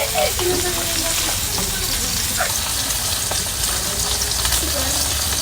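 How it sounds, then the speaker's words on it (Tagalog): Dried fish, daing, frying in a pan makes a loud, steady sizzle and crackle throughout, close and continuous, with faint kitchen clatter underneath. "Ayan nga si tatay, nagpiprito siya ng daing"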